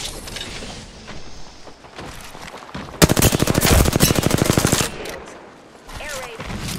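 Rapid automatic gunfire from a battle royale shooter on Storm Point, a dense burst of rattling shots lasting about two seconds, loud and close, with quieter game sounds and distant shots before and after.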